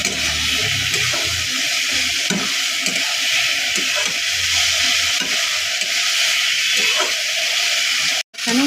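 Fish being stirred with turmeric in a frying pan, sizzling steadily with repeated scraping stirs throughout, close and fairly loud, ending with a brief gap.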